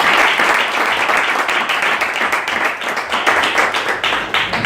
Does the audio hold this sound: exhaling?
no